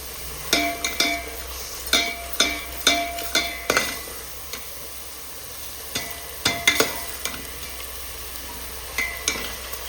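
Kolhapuri masala roasting in a pan for a Kolhapuri mutton dish, stirred with repeated metallic spoon scrapes and clinks in bursts over a low, steady background.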